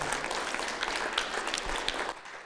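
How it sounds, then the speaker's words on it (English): A brief round of audience applause at a predator hunting seminar, dense steady clapping from a crowd that tapers off at the end. "Let's give another round of applause for John Stallone, you guys."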